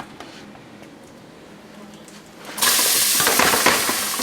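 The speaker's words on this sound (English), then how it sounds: "And there goes the famous sizzle." Onions dropped into hot ginger-garlic spice paste for beef biryani start a loud, steady sizzle and spatter after a quiet, faint-stirring lead-in, holding strong to the end.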